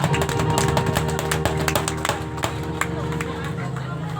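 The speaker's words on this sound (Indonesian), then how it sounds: "Mari kita berikan tepuk tangan yang meriah." A crowd claps in a lively burst of applause at a school graduation ceremony, sharp overlapping claps that gradually thin out, with voices murmuring underneath.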